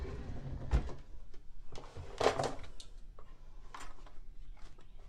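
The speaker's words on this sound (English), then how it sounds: "That's my right drawer." A bathroom cabinet drawer being handled, with a few sharp knocks and one louder sliding scrape, plus faint rattles of the contents, close by in a quiet room.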